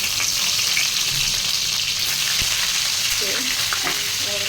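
Fish or prawns fry in hot mustard oil in a kadai for a prawn and taro-stem dish, with a steady close sizzle and light stirring noises throughout.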